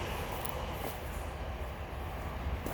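A train passes at a distance, a steady low rumble of rail wagons with faint wheel noise, fairly quiet and continuous.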